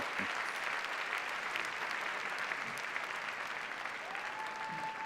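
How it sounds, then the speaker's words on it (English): Steady, even applause from a large audience at a professional Latin dance competition in the UK, 2017, continuing unbroken for several seconds, with a brief sustained tone rising near the end. "Great dancing deserves great applause."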